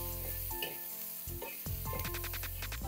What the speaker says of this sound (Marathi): परत एकदा छान परतून घेऊ